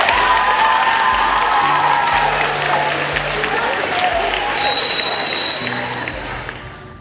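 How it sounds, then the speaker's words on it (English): An audience gives a big round of applause at a legacy tribute, loud sustained clapping mixed with some cheering and voices that tapers off toward the end. "why don't we give Mrs. Bluegrass a big round of applause?"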